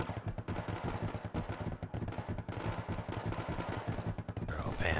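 T-72 tank firing in Wargame AirLand Battle, heard as rapid, dense gunfire cracks and rattling bursts against a busy battle background, fairly faint overall.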